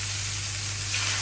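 Chicken breast sizzling as it hits a hot pan for sisig, a steady close hiss of frying that swells slightly at the end, over a low constant hum.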